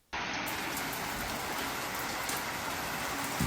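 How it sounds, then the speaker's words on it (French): Heavy rain during a thunderstorm roars steadily and loudly, a dense unbroken wash of drops hammering nearby surfaces with no voices. "Il y a une pluie, subhanallah, elle est incroyable."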